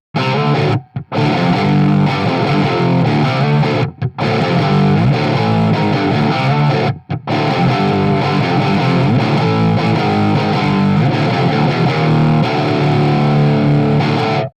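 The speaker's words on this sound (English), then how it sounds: "I'm utilizing a jumped 50-watt Plexi Marshall" A loud, heavily distorted electric guitar through a jumped 50-watt Plexi Marshall amp chugs through thick amp-driven riffs, broken by a few brief stops.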